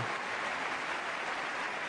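Crowd applause and cheering from a tennis video game swells as a steady, dense wash for just under two seconds, with no talk over it.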